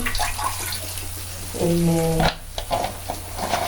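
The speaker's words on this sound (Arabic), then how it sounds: "حطوا بس هنا شوية مية." Water is poured into a cooking pot with garlic and onion already in it, a short gurgling pour over a background sizzle, with light kitchen clatter before and after.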